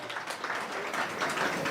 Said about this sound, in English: Let us all give a big round of applause for Hari Shauri Prabhu.